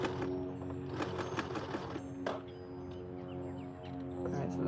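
A sewing machine stitches a denim fairy skirt in a rapid, steady mechanical hum and clatter, quiet and close, with faint background noise.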